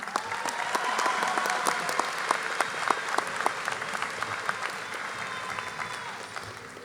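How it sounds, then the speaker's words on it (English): Dense, sustained applause fills the hall at a high school graduation ceremony, with the large audience clapping steadily at a moderate, even level throughout. "Let's give them a round of applause."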